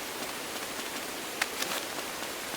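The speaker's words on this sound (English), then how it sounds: "Spring rainy afternoon." Steady rain falls on a spring afternoon in the cozy video game Tales of the Shire, a soft even hiss with a few faint droplet ticks, with no voices.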